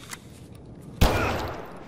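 A single gunshot in Escape From Tarkov cracks out loud and close after a quiet stretch of low ambient background, its broad report decaying over the following second.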